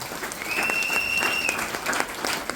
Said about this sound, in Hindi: एक जोरदार ताली फिर से होना चाहिए।